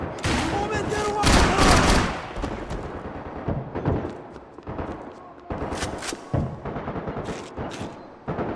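Rapid bursts of gunfire and shots fill a firefight in Max Payne 3, with loud volleys at the start and repeated clusters of shots later. Shouted voices break in between the bursts.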